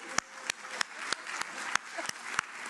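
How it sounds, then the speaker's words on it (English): Scattered handclaps from a sparse audience at a college institution day event, about eight or nine separate claps spread unevenly over a few seconds, fairly quiet with a soft murmur beneath. "let's give a round of applause for the courageous folks."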